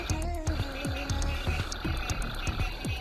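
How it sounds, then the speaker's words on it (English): Dense chorus of frogs croaking near Austin, Texas, ahead of an approaching storm, repeated rhythmic croaks overlapping steadily and loud throughout, with no talk. "you can hear the frogs cranking up"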